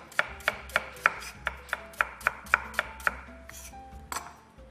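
A knife chops onions on a cutting board for onion soup, about a dozen crisp, evenly spaced thuds in a brisk rhythm, close and clear, followed by a few looser scrapes and knocks.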